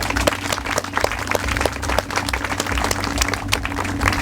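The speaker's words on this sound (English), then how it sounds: "Let's give them a round of applause for all the work that they have done." Steady audience applause fills a remembrance-day gathering honoring murdered victims, a dense continuous patter of many hands clapping with a low crowd murmur underneath, sustained without pause.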